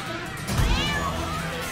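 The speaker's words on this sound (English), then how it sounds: "My cat!" A cat in South Park: The Stick of Truth lets out one short, rising meow over game background noise and a low murmur.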